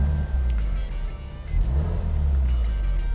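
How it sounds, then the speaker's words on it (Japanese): A Subaru GDB Impreza WRX STI's boxer engine rumbles low and uneven at close range, rising in a couple of revs over a steady burbling idle. "この水平対向の音、これだよ"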